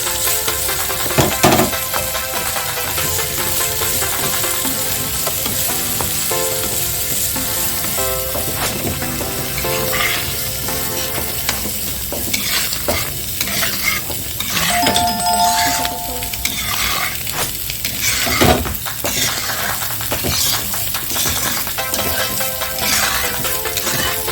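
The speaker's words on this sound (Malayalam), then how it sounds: "ആ സമയത്ത് നമുക്ക് കുറച്ച് അണ്ടിപ്പരിപ്പും കിസ്മിസും ഒന്ന് വറുത്തെടുക്കാം" Cashew nuts and raisins fry in fat for beetroot halwa, making a continuous bright sizzle with stirring scrapes and occasional clinks, fairly loud and close throughout.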